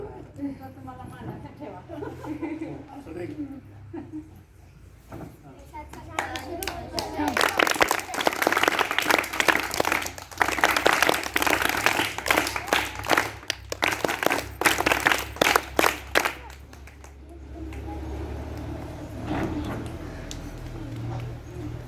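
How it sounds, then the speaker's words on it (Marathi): Students at a village district council school event give a welcoming round of applause, swelling into dense, lively clapping for about ten seconds before fading, with someone speaking before and after. "आपण सुद्धा स्वागत टाळी वाजवायचे"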